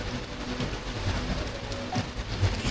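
Steady rain falls on an island resort in the Maldives, a continuous even hiss and patter of drops with no break across the short stretch.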